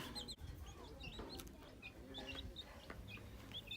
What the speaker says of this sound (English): start off with the chickens have gotten bigger.